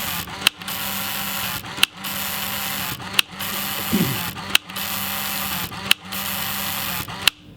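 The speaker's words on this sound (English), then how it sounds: "it should wind the film" A Mamiya RZ67 medium-format camera runs through a long mechanical film-winding whir, a steady buzzing drone broken by sharp clicks roughly every second and a half.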